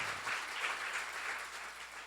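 Steady audience applause fills a church seminar hall, a dense, even wash of many hands clapping together, fairly distant and uniform throughout.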